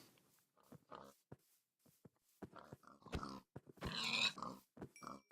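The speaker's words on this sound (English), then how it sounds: "there's a bunch of pigs" Pigs oinking in Minecraft: several short snorting grunts and squeals in an uneven run, near and clear, loudest toward the end, with no voice over them.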